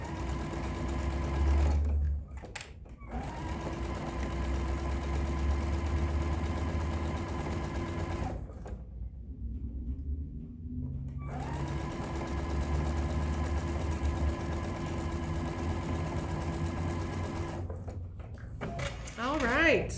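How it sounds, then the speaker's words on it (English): A sewing machine stitches a quarter-inch seam around a fabric drawstring pouch, running in steady whirring stretches broken by short pauses, with someone talking over it. "And I'm just sewing a 1/4 inch all the way around."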